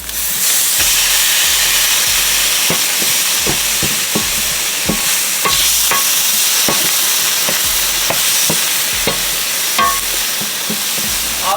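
Lobster pieces sizzling loudly in a hot pan, a steady hissing fry with rhythmic scrapes and knocks of stirring throughout.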